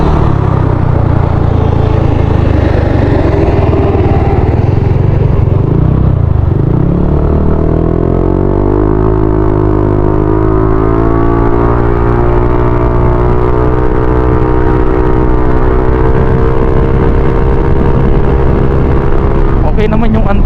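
Yamaha NMAX scooter engine running on a night ride, a loud continuous drone with a rising then steady tone as it accelerates and cruises, with wind noise throughout.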